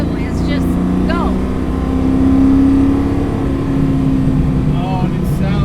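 A 650 HP 1969 Camaro track car's engine drones and swells in a steady rev, with people talking over it throughout.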